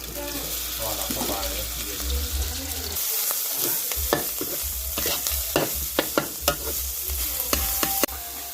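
Thai red curry paste stir-fried in a little oil for a spicy field-rat stir-fry, with steady sizzling and frequent scraping, clacking strokes of a spatula against the pan, growing sharper toward the end.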